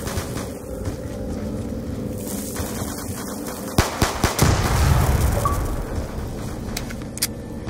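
Rapid automatic gunfire bursts from the Black Ops 2 shooter game, with a dense loud volley near the middle, over continuous game ambience and no talk.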